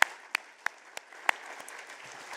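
A few sharp, scattered claps ring out from a small audience after a presentation on plant breeding for climate change, quiet and spaced apart rather than a full ovation.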